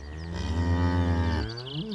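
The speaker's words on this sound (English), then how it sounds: "The cows are mooing." Cattle moo near an old cottage in Leitrim, Ireland: one long, loud, close bellow holds steady for about a second and a half, then a softer call trails off, with no talk.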